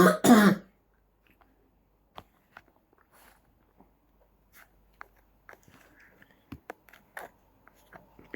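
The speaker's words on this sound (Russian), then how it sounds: "Пипец кашель." One brief, loud cough burst at the start, then quiet with scattered small clicks and taps in a room.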